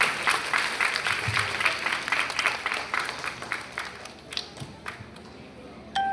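A church congregation bursts into applause, dense clapping that fills the room and gradually thins out into scattered claps toward the end.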